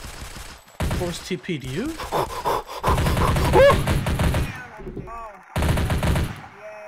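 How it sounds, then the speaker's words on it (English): Bursts of video game gunfire crackle through a roleplay shootout, rapid shots layered under excited voices talking over each other, with loud stretches broken by brief pauses. "I hear a gun."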